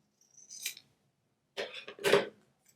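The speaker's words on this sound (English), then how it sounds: "I'm going to take this one, cut it in half" Scissors cut stamped paper in two quick, crisp snips, a short one first and a louder, longer pair after a pause, close and clear against a quiet room.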